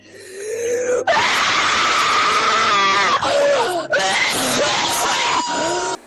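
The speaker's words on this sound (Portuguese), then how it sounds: "Você precisa gritar o mais alto que conseguir." A person yells as loudly as possible in one long, strained, sustained scream, raw and very loud, breaking briefly and then resuming until it cuts off.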